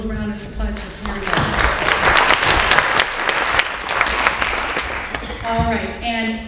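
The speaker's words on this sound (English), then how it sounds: "A little round of applause for coming." An audience at a college admissions talk breaks into sustained applause, loud and close, swelling after a moment and tapering off near the end, with a voice speaking briefly at the start.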